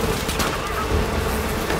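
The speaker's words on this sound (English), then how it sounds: "there's bees!" Swarming bees buzz in a steady, dense drone in the Far Cry 5 video game, loud and continuous with no talking.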